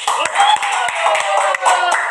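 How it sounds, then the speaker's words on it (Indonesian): Audience clapping in applause during a corporate safety talk for a mining contractor, a dense, steady patter of many hands close by with a few sharper claps standing out, filling the short stretch. "Tepuk tangan buat Buma."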